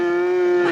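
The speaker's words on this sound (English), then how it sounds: "Sounds like a cow's in there." A cow moos inside a vehicle with one sustained, steady low bellow lasting under a second, loud and close, with no other sounds around it.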